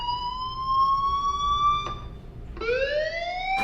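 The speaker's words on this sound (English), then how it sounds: "do you hear that fire alarm?" Electronic fire alarm in the video game Life Is Strange, a loud rising and falling siren-like wail that repeats twice with a short break between sweeps, heard alone.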